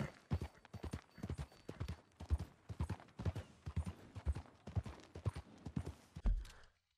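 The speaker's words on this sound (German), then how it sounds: "Mein Pferd ist wirklich ziemlich komisch beim Reiten." Hooves clop in a quick, uneven rhythm, loud and close, with no talking, like a horse trotting, in the video game Red Dead Redemption 2.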